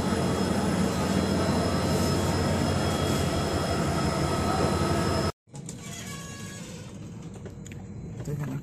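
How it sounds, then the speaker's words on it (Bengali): A freight train rolls past near Raipur junction with a loud, steady rumble and wheel noise that cuts off abruptly, leaving quieter background hum and faint clatter. "এখানে একটা মালগাড়ি যাচ্ছে এখন।"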